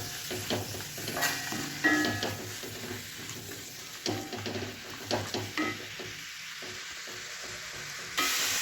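Ponnanganni spinach with onion, curry leaves and green chilli wilting in a pan, a moderate sizzle with intermittent scraping stirs and light taps of the spoon, no speech.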